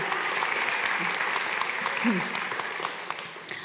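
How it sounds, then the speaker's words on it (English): Steady applause from a crowd, dense clapping that continues throughout and tapers slightly toward the end. "so applause for him"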